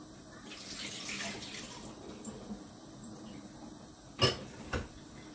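Soaked spinach leaves are squeezed and wrung in a bowl of water, giving soft splashing and trickling up close, followed by two sharp wet slaps near the end.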